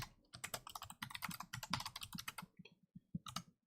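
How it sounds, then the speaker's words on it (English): Rapid keystrokes on a computer keyboard, heard close and clear as a fast run of clicks that pauses briefly, then ends with a few final taps. "Let's just type it out."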